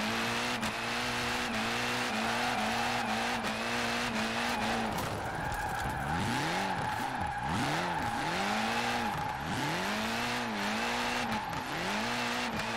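A 2007 Honda Civic with a four-cylinder engine drifts in Forza Horizon 4, its engine revving hard and droning while the tires squeal and skid continuously, pitch swooping up and down as the throttle is worked, loud and unbroken.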